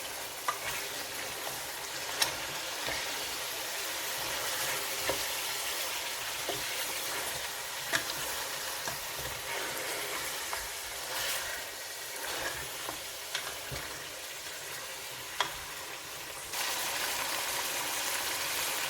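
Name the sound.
ginger garlic paste being fried for haleem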